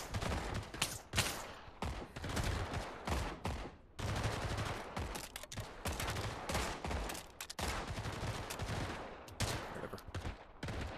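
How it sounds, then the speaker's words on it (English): Repeated gunfire in the VR shooter Pavlov VR, including shotgun blasts, fills the whole stretch with dense, loud overlapping shots and bursts, some rapid like automatic fire, with brief lulls between volleys. "I love the shotgun"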